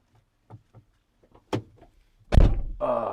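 A car door is opened with a loud thunk and rush of sound near the end, after a few soft knocks and clicks inside the vehicle.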